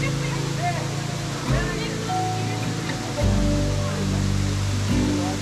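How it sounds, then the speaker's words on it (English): Water pours steadily down a waterfall at Emerald Pools in Zion National Park in winter, a constant rushing wash heard close under people talking. "the waterfall's flowing pretty good today"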